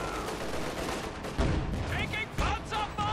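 Incendiary barrage artillery fire in a strategy video game, with bursts of rumbling impacts and crackling shots layered under a continuous battle din, louder thumps midway and a few higher whistling tones near the end.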